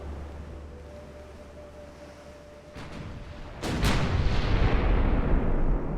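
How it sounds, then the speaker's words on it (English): A warship in the naval game Ultimate Admiral Dreadnoughts fires a full broadside from its 16 guns. Distant booms open the barrage, then it swells into a heavy, rolling roar of gunfire over a low sea rumble. "Firing all her guns in anger."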